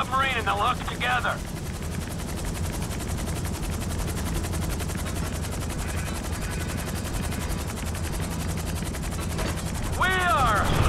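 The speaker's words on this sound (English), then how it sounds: "Get the chopper over the submarine and they'll hook together." A continuous thudding helicopter rotor drone with mechanical whine fills a Grand Theft Auto V mission scene as the chopper hooks onto a submarine, with brief bursts of voice chatter at the start and end.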